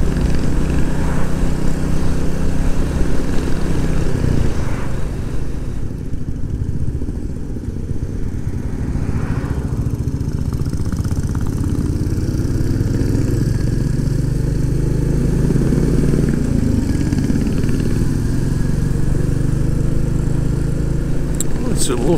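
A long line of motorcycles, including a Royal Enfield Classic 350 single, rides out through open countryside, their engines droning loud and close with wind buffeting; someone talks over the engine noise.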